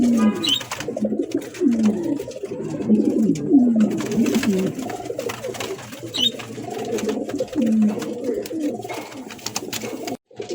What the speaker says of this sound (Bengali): দেখেন কিভাবে খাঁচার ভিতরে ছটফট করতেছে বাইরে বেরোয়ার জন্য